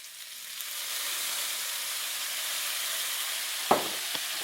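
Soy sauce sizzles in a hot pan of shrimp with ginger, onion and garlic, a loud steady frying hiss that runs throughout and ends in a couple of sharp clanks of a utensil.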